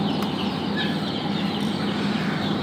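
A close, unbroken mass of high chirps rises from freshly hatched chicks in a fridge-built homemade incubator on a poultry farm, steady in level throughout.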